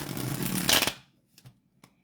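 A deck of tarot cards is shuffled in one quick riffling burst, close and fairly loud, followed by a few soft taps as the cards settle, with no talk.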